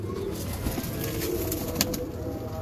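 Breeder pigeons coo softly and steadily in a loft, close by, with a few faint chirps over a low background hum.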